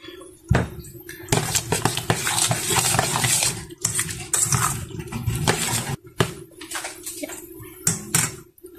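Biryani being mixed in a cooking pot brings repeated scraping and clattering strokes of a spoon against the metal, in irregular bursts separated by brief pauses.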